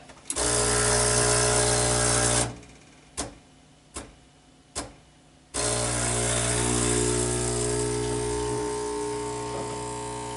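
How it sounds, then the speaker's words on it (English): A Breville 800ESXL espresso machine pump runs with a loud, steady buzzing drone, stops for about three seconds while a few sharp taps sound, then starts again and keeps humming, slowly easing off. "The pump is going to start, and then you're going to hear it tap, tap, tap"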